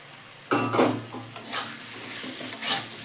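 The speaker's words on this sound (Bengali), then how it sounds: "আলুগুলো দিয়ে একটু কষে নেব" Potatoes stir-fried in oil with sour yogurt and spice paste over a low gas flame for a honey gourami fish kalia, sizzling with scraping stirs in bursts, close and moderately loud, no talking.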